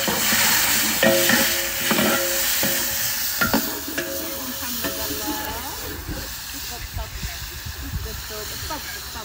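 Onions frying in hot fat, a steady broadband sizzle with stirring and clattering over it, while people talk and banter nearby throughout.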